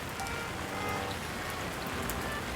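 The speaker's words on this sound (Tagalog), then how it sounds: "Umuulan." Steady rain falls in Japan, a dense even hiss of drops pattering on surfaces, moderately quiet and unbroken throughout, with no voices.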